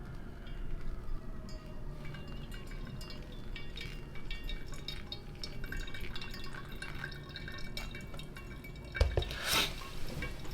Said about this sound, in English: now we're gonna go ahead with the first pour, which is 50 grams in 15 seconds